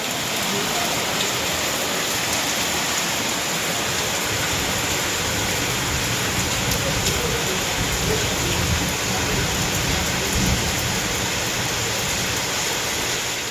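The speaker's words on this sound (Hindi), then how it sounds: "थोड़ी सी आपको बारिश भी दिखाऊंगी, जो बारिश हो रही है ना बाहर, बिल्कुल हल्की" Light rain falls steadily outside a home, a continuous even hiss of drops on surfaces that holds at the same moderate level throughout, with no voices.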